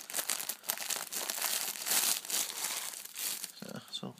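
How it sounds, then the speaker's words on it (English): Plastic wrap is torn and crumpled off a Minecraft PlayStation 4 game case, making loud, close crinkling and tearing that continues almost without a break before a short pause and a last few crackles. "So plastic off."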